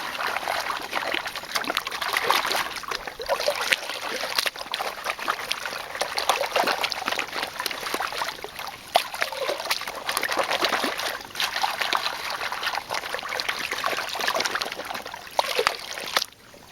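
Water sloshes and trickles in rhythmic swirls as sediment is worked around a gold pan during prospecting, a close, continuous splashing wash with repeated surges and no talk.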